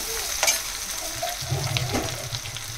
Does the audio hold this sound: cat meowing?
no